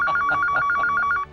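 A telephone rings in a rapid electronic trill, four or five close bursts repeating steadily and loud in a quiet room, cutting off at the end.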